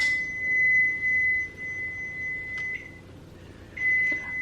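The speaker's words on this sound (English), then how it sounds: "I heard you microwave." A microwave oven beeps in a quiet kitchen: a clear high-pitched electronic tone that sounds and stops in several stretches, with a few faint clicks and handling noises between.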